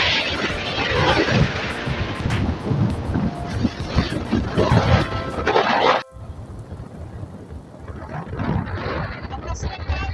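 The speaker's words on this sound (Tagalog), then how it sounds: "Lakas ng hangin. Sobra." Strong gusts of wind roar and buffet the microphone beside a rough sea with big waves, a loud, steady broadband rush that drops abruptly to a lower, calmer level about two-thirds of the way through.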